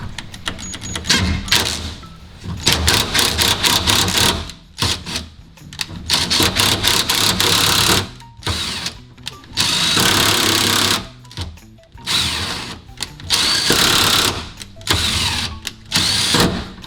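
Chasing a thread on a 1976 Plymouth Voyager: loud, rapid ratcheting and grinding bursts in an irregular back-and-forth rhythm, broken by short pauses, close up with no talking.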